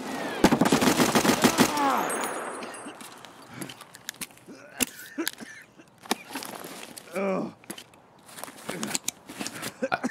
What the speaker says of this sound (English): Oh my god, it's not firing straight.